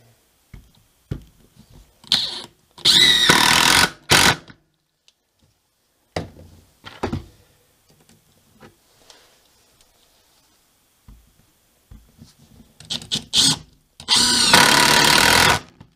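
A Mastercraft 20V brushless cordless impact driver whirs at full speed in two loud sustained bursts separated by quieter clicks and handling noises, close by, with no talking.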